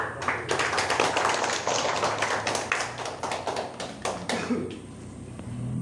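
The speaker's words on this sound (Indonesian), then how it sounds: "Kita memberikan aplaus buat" Audience at a traffic-order outreach session held by the Manokwari police applauds continuously, a dense crowd of claps with a few sharper taps standing out, fading slightly toward the end.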